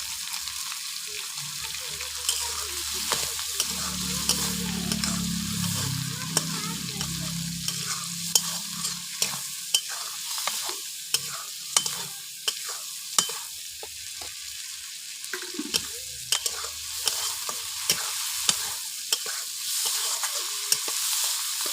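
Prawns frying in a pan, with a steady sizzle and frequent scraping stirs throughout. A low murmur of voices rises briefly in the middle.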